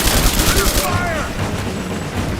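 Gunfire in the video game Rise of the Tomb Raider forms a dense, loud fusillade of rapid shots with heavy rumbling, thinning slightly toward the end.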